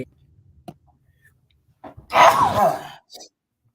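A single sharp sneeze bursts out loudly after a quiet stretch, followed by a brief softer exhale.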